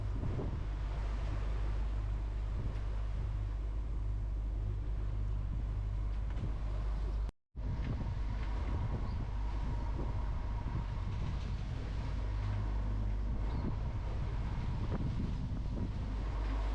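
Sailboat motor sailing at 6.5 to 7 knots on the open ocean, a steady low engine drone mixed with rushing wind and water noise, continuous and close apart from a momentary cut.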